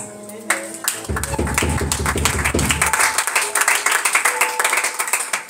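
A church congregation at a Sunday worship service applauding together, a sustained wash of clapping layered over music that sounds close and fills the room.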